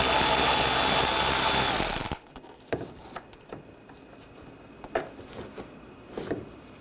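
A socket tool whirs loudly for about two seconds, then scattered clicks and taps follow as a T20 socket backs out a bumper screw on a 2013-2022 Buick Encore.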